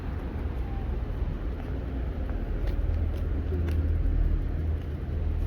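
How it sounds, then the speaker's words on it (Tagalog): Road traffic rumbles along a street near a village while walking, a steady low engine drone with a car seeming to pass close by midway, loud and continuous. "traffic"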